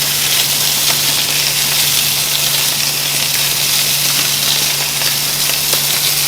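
Sauce hitting a hot pan with sausages and sizzling loudly, a steady, dense frying hiss that holds unbroken and close throughout, with a faint low hum underneath and no talking.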